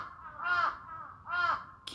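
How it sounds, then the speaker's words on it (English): Two loud, harsh crow caws ring out about a second apart outdoors, fairly close, over a quiet background. "can you hear the crows talking?"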